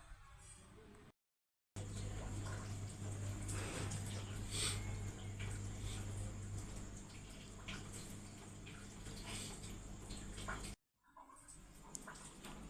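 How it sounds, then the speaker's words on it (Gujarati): Water pours steadily over sabudana soaking in a bowl, a continuous close splashing and trickling that runs for several seconds, with a low hum underneath, then stops abruptly. "તો આપણે એક ગ્લાસ ઉપર થોડું પાણી એડ કરી દેશું"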